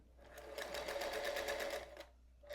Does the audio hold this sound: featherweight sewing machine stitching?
yes